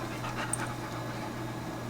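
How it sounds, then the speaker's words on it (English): A dog pants quickly and softly nearby over a low steady hum, the breaths coming in a quiet, even rhythm. "Stinky dog. Stinky dog."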